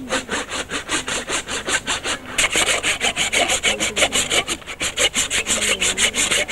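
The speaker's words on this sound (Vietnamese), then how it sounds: "Khi đặt cưa vào chúng ta cưa thật nhanh và thật dứt khoát." A hand saw cuts through cattle horn with fast, steady back-and-forth strokes, close up and rhythmic throughout.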